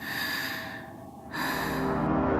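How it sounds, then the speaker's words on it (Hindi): Heavy, rapid panting breaths close up, with no talking, dipping briefly in the middle before resuming at full strength. "तू इस तरह हाफ क्यों रही है?"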